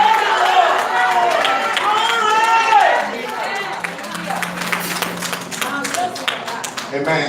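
A church congregation claps during a service, with dense applause under singing and speech that thins into scattered, uneven claps.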